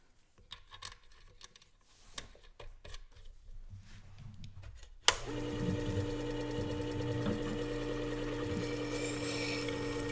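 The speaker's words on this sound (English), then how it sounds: "we're gonna go back to flattening the back of the chisel here with the 1000" A chisel back is flattened on 1000 grit abrasive on a Work Sharp WS3000, a steady motor whir with continuous rasping grind starting halfway after quieter scraping and handling noises.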